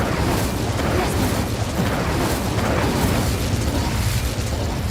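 A fire spell, Incendio, cast in the Hogwarts Legacy video game: a dense, roaring burst of flame noise that stays loud and steady throughout, with no clear pauses.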